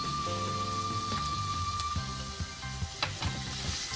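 Fatty intestine fries with chopped red and green chillies, keeping up a loud, steady sizzle nearby, broken by a few scraping stirs and light knocks, with no voices.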